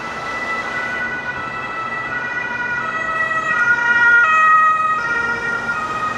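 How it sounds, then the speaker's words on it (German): Ambulance siren wailing on a road in winter, heard from inside a moving electric SUV, a steady two-tone wail that swells as it draws nearer and then holds loud over low road rumble. "Jetzt kommt gerade ein Krankenwagen."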